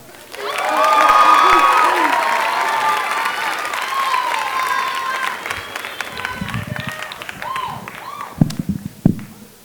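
Audience applause and cheering from a crowd at a live presentation event, loud and sustained at first, then fading into scattered claps and a few sharp bangs near the end.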